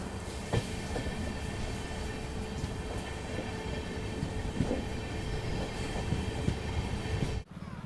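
The Buddha Express, a Bharat Gaurav tourist train, departs from a station with a steady, continuous rumble of wheels and carriages, occasional clicks and squeals, and fairly loud, close sound that cuts off sharply near the end.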